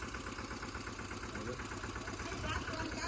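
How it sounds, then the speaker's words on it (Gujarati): A tractor engine idles and runs with a steady low rumble and rhythmic knocking throughout, fairly faint and close, on a village farm. "ટ્રેક્ટર લઈને જાય છે બાપા વાડીએ"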